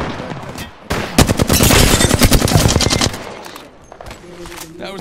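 Rapid automatic gunfire in the game Apex Legends, a loud, dense burst of shots lasting about two seconds, followed by quieter scattered sounds.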